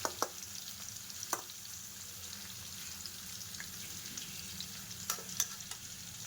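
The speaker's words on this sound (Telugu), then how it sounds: "ఇలా ఆయిల్లో ఫ్రై చేసుకోవాలి." Vegetables deep frying in oil, a quiet continuous sizzle with occasional sharp crackles and pops scattered through.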